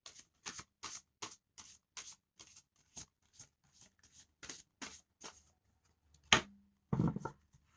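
Tarot cards are riffled and tapped in a steady series of crisp, close bursts, followed by a louder thump and a brief rustle near the end.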